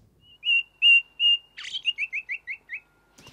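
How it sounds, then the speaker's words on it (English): A songbird sings alone and close on a looping 3D ambience track: three drawn-out whistled notes followed by a fast run of six or seven descending chirps, set against near silence. "I have a 3D ambience loop, which is playing a bird singing."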